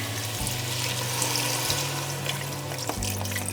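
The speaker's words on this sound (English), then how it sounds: "I'm just gonna add some more veggie stock" Vegetable stock pours steadily into a pot with a continuous rushing splash, close by and uninterrupted.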